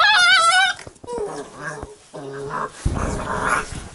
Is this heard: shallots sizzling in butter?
no